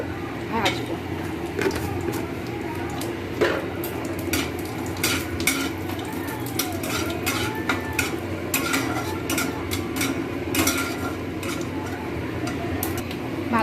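Almonds or peanuts frying in a pan for basanti pulao, with a steady sizzle and scraping stir strokes, sharp utensil clicks scattered throughout, and a voice talking intermittently over the cooking.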